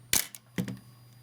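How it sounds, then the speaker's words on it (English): Nikon F3 35mm film camera firing its shutter with a flash unit attached: two crisp mechanical clacks about half a second apart, close and loud, over a faint steady hum. "cock the shutter, and the flash will fire"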